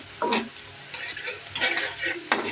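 Garlic and onion temper in mustard oil in a pan, with a spoon scraping and clinking against the metal in bursts over a light sizzle, near and without talk.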